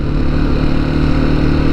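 A motorcycle engine idles steadily at a border crossing into Armenia, a continuous low rumble held close and loud throughout with no break.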